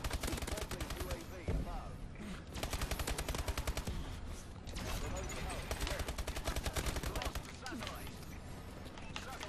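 Rapid automatic gunfire in Call of Duty: Advanced Warfare, dense stuttering bursts of shots that run almost continuously and sit loud and close, with only short pauses between volleys.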